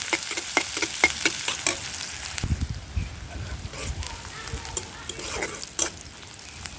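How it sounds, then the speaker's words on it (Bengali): Chopped onions fry in hot oil for an eggplant curry, giving a steady sizzle broken by clinks and scrapes of stirring, with a few faint voice-like sounds. "এখানে আমি দিয়ে দিয়েছি বেশ কিছু পেঁয়াজ কুচি। পেঁয়াজটা একটু লাল লাল হোক।"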